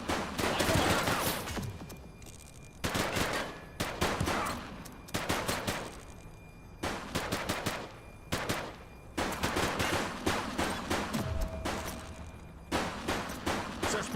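Police shoot it out with suspects in The Precinct video game, loud bursts of automatic gunfire in repeated volleys separated by short pauses.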